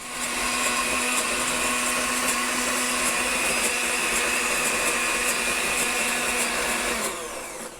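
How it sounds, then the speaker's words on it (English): A kitchen blender whirs loudly and steadily as it blends water and garlic with its top off, a constant high motor drone for about seven seconds before cutting off. "I just turned the blender on without having the top on."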